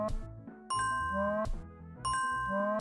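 Bright bell chimes from the video game Catlateral Damage ring in a quick, regular series, each a clear ding with a ringing tail over a soft musical backdrop, tallying up a score.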